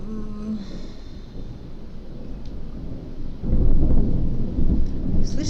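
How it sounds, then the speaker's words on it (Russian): Deep rumbling thunder rolls in the distance, swelling louder midway, with a faint patter of rain underneath. "слышите, какой гром гремит?"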